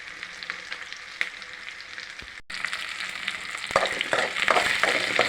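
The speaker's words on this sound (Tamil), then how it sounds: "வெங்காயம் நல்லா வதங்கிடுச்சு." Onions sauté in a pan for a South Indian greens dish, a steady broadband sizzle with scattered stirring clicks and scrapes that grows louder in the second half, with no voices.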